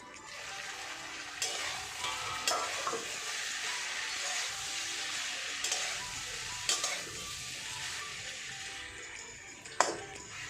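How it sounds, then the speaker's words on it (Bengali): Tomatoes stirred and fried in a pan for a Bengali kakchi fish chorchori with stalks, a steady sizzle with scraping stirs and occasional sharper clinks, fairly close and moderate in level, no talking. "টমেটো নেড়ে সেড়ে আমি ভেজে দেবো"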